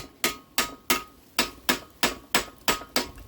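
Eight sharp metallic hammer taps on a hot rod's rear axle part in a steady rhythm, close and fairly loud, each ringing briefly before the next strike.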